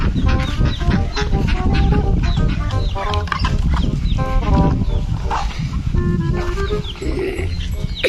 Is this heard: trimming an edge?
no